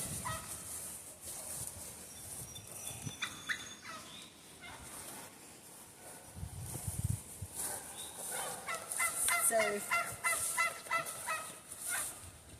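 Farm fowl calling around a chicken coop on a small farm, a busy mix of honking and gobbling-type cries that swells louder in the second half over steady outdoor background noise.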